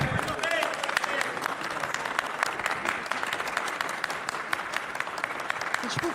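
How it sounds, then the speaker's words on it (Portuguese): Sustained applause fills the Brazilian Chamber of Deputies, many hands clapping continuously at a fairly distant, even level, with voices audible through it. "Pode aplaudir, presidente, pode aplaudir, presidente."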